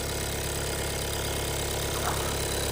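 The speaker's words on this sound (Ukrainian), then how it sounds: "двигунчик працює гарно, гарно працює двигунчик" A VW Passat's 147 kW engine idles steadily, a constant low rumble with a faint mechanical knock, close by and unchanging throughout.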